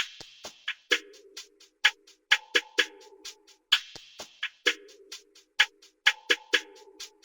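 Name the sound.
percussion loop from Jumpstar V5 in FL Studio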